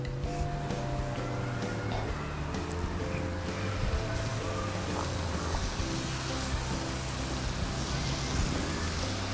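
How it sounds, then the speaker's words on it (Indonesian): Steady crackling sizzle of coconut chips frying in hot oil, continuous and close, with faint low background hum and no talking. "Kita goreng untuk yang selanjutnya."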